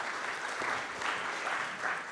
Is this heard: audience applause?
yes